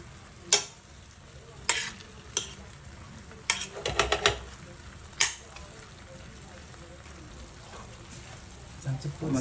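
Covered adobo simmers and sizzles in a pot with a low bubbling hiss, broken by several sharp clinks and knocks of a utensil or lid, with a voice speaking faintly under the cooking sounds.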